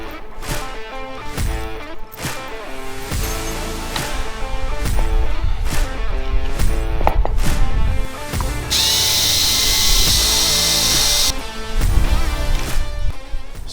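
Power tool whirring and tool clatter while bolts come off a winch gear cover on a Runva 9500 lb winch, with bursts of drilling, pauses and a steady high buzzing section, close and loud.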